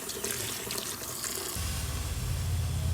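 Palm noodles rinsed under a running kitchen tap, a steady close splash of water that deepens to a fuller, heavier gush partway through as the flow strikes the noodles and sink.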